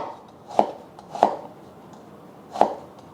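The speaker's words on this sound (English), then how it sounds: "the smaller you cut the onion, the faster it's going to cook. So we're going to mince this up" A knife mincing onion on a cutting board for bacon fried rice, three sharp separate chops spaced about a second apart, close and fairly loud over a low steady background.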